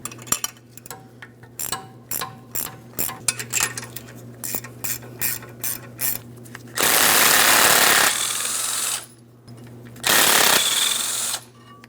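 Mounting hardware being taken off a front ball joint on a Ford Transit 250 van, heard as a run of sharp metallic clanks and ratcheting clicks followed by two long, loud bursts of air-powered impact tool whirring.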